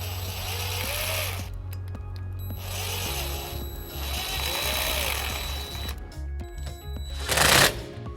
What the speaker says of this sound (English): we're going to take a 5/16 socket and we're going to tighten up this clamp